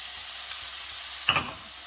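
Onions sauté in a pan for brinjal bharta, giving a soft, even sizzling hiss with one brief clatter of a spatula or stir partway through.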